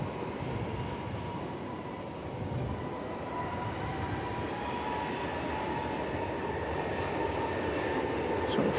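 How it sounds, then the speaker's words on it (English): An airplane arriving from Madison comes in to land at DFW Airport with a steady jet roar that slowly swells louder over several seconds, with no talk over it. "That plane coming in was coming in from Madison."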